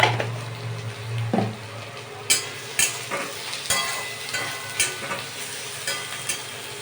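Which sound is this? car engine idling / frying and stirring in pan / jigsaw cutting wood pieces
frying and stirring in pan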